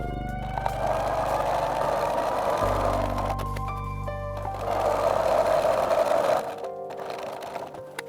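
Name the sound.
sewing machine stitching corset boning channels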